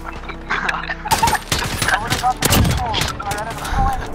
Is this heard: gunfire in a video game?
yes